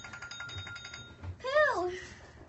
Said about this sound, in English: So turn your timer off. Or it's going to keep ringing.